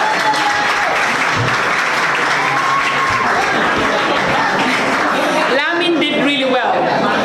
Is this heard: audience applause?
yes